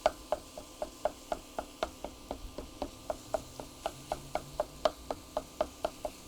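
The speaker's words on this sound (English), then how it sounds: "I just try to break it up in the pan as much as possible when it's cooking down" Repeated taps and scrapes of a spatula breaking up sausage as it cooks down in a frying pan for biscuits and gravy, a steady near rhythm of sharp knocks about three per second over a soft sizzle.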